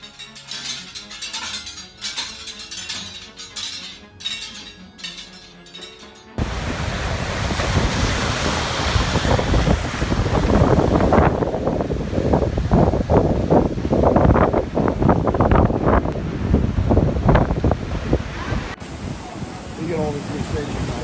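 Ocean waves crash and roar along the Key West shoreline, a steady loud surging wash with wind buffeting the microphone, preceded by several seconds of something else.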